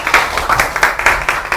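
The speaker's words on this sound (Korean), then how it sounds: "큰 박수로 맞이해 주시면 감사하겠습니다" An audience claps to welcome a speaker at a lecture on quantum technology trends, a brief, dense burst of steady applause heard close and loud.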